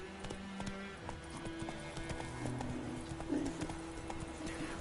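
Hoofbeats of the horse Roach trotting in The Witcher, a steady near clip-clop rhythm with an occasional soft snort, over a low ambient bed.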